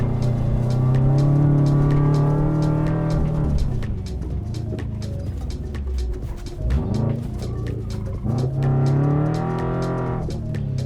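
A Bugeye Subaru rallycross car drives through mud with its engine loud and close, droning steadily and then revving, dipping and rising again, with no talk.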